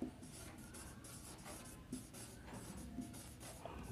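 Pen scratches across paper as numbers are written out by hand for a maths exercise, a soft continuous scratching and rubbing, quiet and close, with no talk over it.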